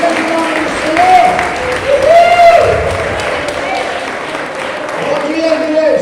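A church congregation applauds during worship, a sustained wash of clapping under a sung or spoken voice that rises and falls over it.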